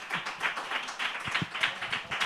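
An audience applauding at a comedy show, a short burst of brisk, fairly close clapping with a few louder individual claps.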